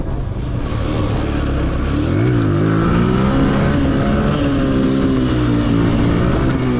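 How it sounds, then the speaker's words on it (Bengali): RTR 2V motorcycle engine revving hard during a wheelie on an empty road, a loud continuous roar with pitch rising and falling as the throttle is worked. "আরটিআর 2V, রাস্তা ফাঁকা, এখন আমি দিব হুইলি"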